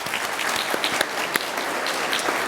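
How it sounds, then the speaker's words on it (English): Hearty audience applause honors nursing faculty at a spring pinning ceremony, a thick, even wash of many clapping hands with a few sharper claps standing out. "please join us in giving a round of applause"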